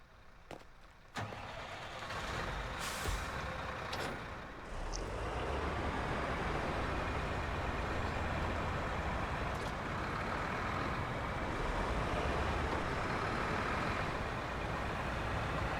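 A heavy truck in the SnowRunner video game runs at wide open throttle: after a few brief knocks, a steady, droning engine roar holds evenly for the rest of the clip, with no talk.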